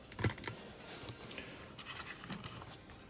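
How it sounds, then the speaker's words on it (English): Quiet tapping on a small handheld device during a live card-shop game break, soft irregular clicks and scratchy taps close by with no talk. "I'm so bad at typing on my OBO."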